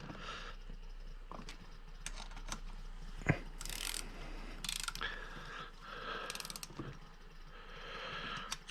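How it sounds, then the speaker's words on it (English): Bolts on an engine rebuild are snugged down evenly with a ratchet, giving faint, scattered clicking bursts and short metallic ratcheting runs against quiet background noise. "now I'm just going to kind of snug them all up opposite and evenly until I get the clicks"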